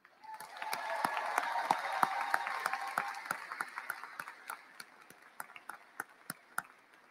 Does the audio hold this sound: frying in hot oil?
no